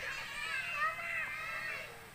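Many children play and chatter by a river where fresh water meets seawater, their high voices overlapping in a lively, steady babble at moderate distance.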